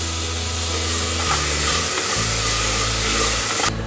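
Tomatoes sautéing with masala in a pan for mutton chest-bone soup give a steady close sizzle, with stirring scrapes and a brief low rumble partway through.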